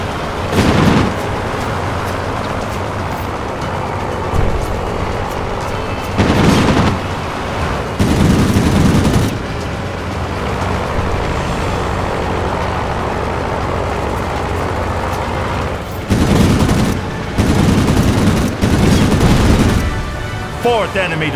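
Aircraft machine guns in the World of Warplanes combat flight game fire in several loud sustained bursts over a constant engine drone, with a synthetic voice announcing status between volleys.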